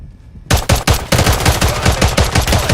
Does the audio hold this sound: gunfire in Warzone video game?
yes